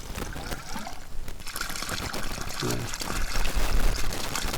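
Water gushing from a pipe fed by a 375 W solar-powered pump, lifted about 28 metres under cloudy skies: a loud, steady splashing pour that swells slightly toward the end.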